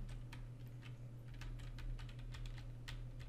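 Fingers tapping keys on a PC computer keyboard for navigation shortcuts, quiet irregular clicks close up over a low steady electrical hum, no talking.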